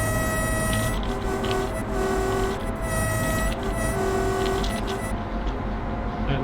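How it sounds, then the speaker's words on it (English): Locomotive horn in Nordbahn Train Simulator 2021, a class 371 engine with loud cooling fans, sounding in a few sustained tonal blasts with short gaps over a steady dense machinery rumble, fairly loud and close. "I like this train horn."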